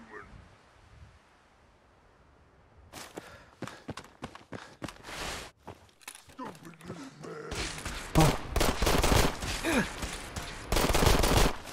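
Gunfire in the video game Fallout 4 with a photorealistic mod: a quiet start, then rapid bursts of shots that grow denser and louder toward the end, with faint footsteps between volleys.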